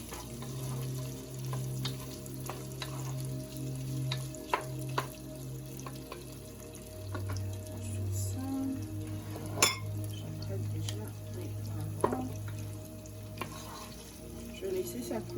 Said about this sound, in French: Je mélange tout ça ensemble.